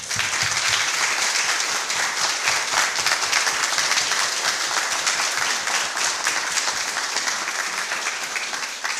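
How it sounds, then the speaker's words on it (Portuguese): Sustained audience applause after an evening talk honouring ancestors, a dense wash of many hands clapping steadily at fairly close range throughout, with no speech over it. "vamos dar uma salva de palmas a esses nossos antepassados"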